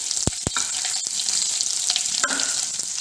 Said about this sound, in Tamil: இப்போ வந்து நம்ம கட் பண்ணி வச்சுருக்கிற வெங்காயத்தை போட்டுடலாம்.